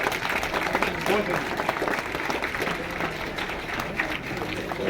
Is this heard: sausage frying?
no